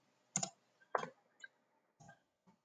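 A computer keyboard is tapped a handful of times while a login is entered, quiet separate clicks in an otherwise silent room.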